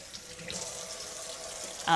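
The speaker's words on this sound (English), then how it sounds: "I need to start rinsing stuff here." Tap water runs steadily into a kitchen sink while dishes are rinsed, a continuous close hiss and splash that swells slightly toward the end.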